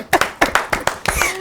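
Studio audience clapping to welcome a guest on a TV show, a handful of sharp, close hand claps in an uneven rhythm over little more than a second, with a faint voice near the end.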